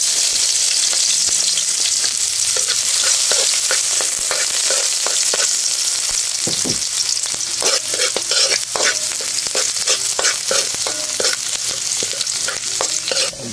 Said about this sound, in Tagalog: Ano na natin yung mantika, tapos sundan natin itong sibuyas